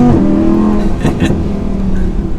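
A V10 supercar, Lamborghini Huracan or Audi R8, roars loud and close, a steady deep engine drone with a brief throttle blip partway through.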